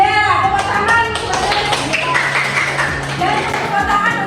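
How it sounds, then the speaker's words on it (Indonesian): Hands clap in a classroom as a teacher prompts pupils to applaud a correct answer, the claps quick and fairly close, mixed with steady voices. "Tepuk tangan."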